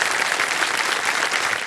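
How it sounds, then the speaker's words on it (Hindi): A studio audience on the Indian quiz show Kaun Banega Crorepati claps in a dense, even burst of applause that fades slightly at the end. "ताली बज जाए आपके लिए।"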